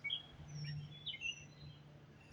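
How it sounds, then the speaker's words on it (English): Birds chirp and tweet outside a house in a scattered string of faint, high calls over a low steady hum. "Now listen to the birds."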